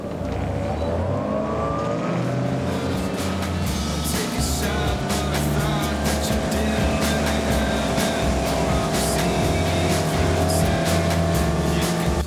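A Windy 29 Coho motorboat's engine drones steadily up close, with a low throbbing rumble and rushing water and wind noise throughout, no voices.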